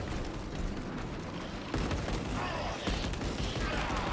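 A boss fires its ultra cannon on nightmare difficulty in the video game Space Game 2, a dense, continuous rattling barrage that jumps louder twice as fresh volleys hit.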